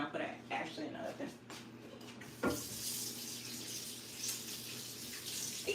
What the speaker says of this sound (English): I'm just washing out the bowls and everything, washing everything up.